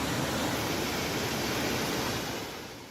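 Waterfall beside a gorge, a constant broadband rushing roar that stays loud and unbroken, easing off slightly at the very end.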